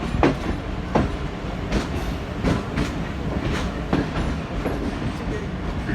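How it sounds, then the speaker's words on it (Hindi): Millat Express train rolling over a diamond crossing, with loud continuous rail rumble broken by a regular series of sharp wheel clacks as the wagons pass over the crossing joints. "अभी हमारी 18 डाउन गुजरेगी डायमंड क्रॉसिंग से लखवाल की"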